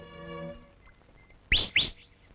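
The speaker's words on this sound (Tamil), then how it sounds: "காலம் காத்தால விசில் அடிச்சுண்டு" Someone in a Tamil comedy film scene gives two short, sharp rising whistles in quick succession, loud and close, after a faint sustained tone fades away.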